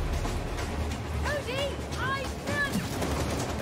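Steady gunfire from the co-op game It Takes Two, continuous popping shots under lively game effects with swooping tones, while voices talk over the action.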